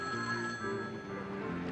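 A telephone bell rings indoors in a 1973 television drama, a faint sustained ring under a low room hum.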